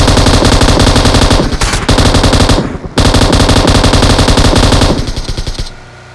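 Machine gun fire in the video game PUBG/BGMI, long loud rapid bursts of close automatic shots broken by brief pauses, with the final burst trailing off into quiet.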